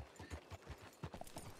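Horse hooves clip-clopping in a ranch roleplay video game, a quick run of evenly spaced, fairly close hoof strikes on hard ground.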